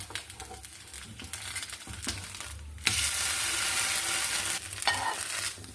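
Oats dosa sizzles in a hot pan just after being flipped, a steady, bright frying hiss that swells loud partway through and holds, with a few faint scrapes and no voices.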